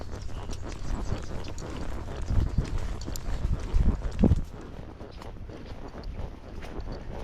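Hooves of a ridden Tennessee Walking Horse clop in an uneven patter on the ground, moderately close and fairly quiet against steady background noise, with a cluster of louder strikes midway.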